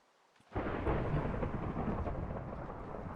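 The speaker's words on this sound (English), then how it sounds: "It's raining." Minecraft rain and thunder begin abruptly and then continue as a steady, loud wash of rainfall with a low rumble underneath, with no talking.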